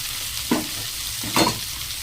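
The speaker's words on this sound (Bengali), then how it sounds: "আর দেখো মটরশুঁটি, আদা, জিরে আর রাঁধুনি, শুকনো লঙ্কা, তেজপাতা ফোড়ন দিয়ে দিয়েছি" Peas, ginger, cumin, dry red chilli and bay leaf are tempered in hot oil, with a continuous sizzle broken by two brief spatula scrapes.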